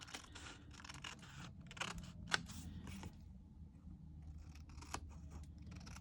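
Scissors trim paper scraps for cardmaking in a series of quick, close snips and crisp cuts, with soft rustling of paper between them.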